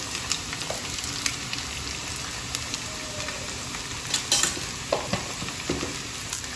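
Garlic frying toward golden brown with garam masala for restaurant-style dal khichdi, a continuous close sizzle broken by frequent clicks and scrapes of a stirring spoon, no talk.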